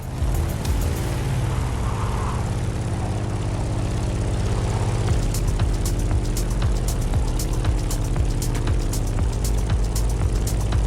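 A Grumman F8F Bearcat propeller plane engine in the video game The Crew Motorfest drones steadily with a deep, buzzing rumble, holding a constant pitch throughout with no voices.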